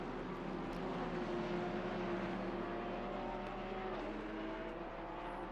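GT3 race cars lapping the Barcelona circuit in the racing game Assetto Corsa Competizione, a steady layered engine drone with rising and falling tones from several cars, loud and continuous with no talk.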